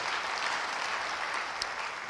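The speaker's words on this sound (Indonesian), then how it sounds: "Yang mau beri tepuk tangan bagi dia." Church congregation applauds during a sermon, a short, soft, continuous patter of clapping heard from a distance for about two seconds.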